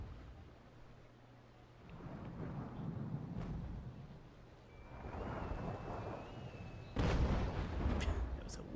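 Incoming cannon fire during a Naval Action sea battle: low booming blasts and rumbling impacts, with a loud heavy crash near the end and a steady wash of sea noise underneath.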